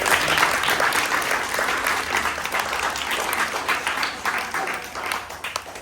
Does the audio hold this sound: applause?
yes